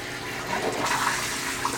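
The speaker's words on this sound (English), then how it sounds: "this water bottle is now siphoning and filling with water, and you'll be able to see it drop pretty soon" A bell siphon drains water from a barrel aquaponics system, a close, steady rush of gurgling, flushing water that runs without a break.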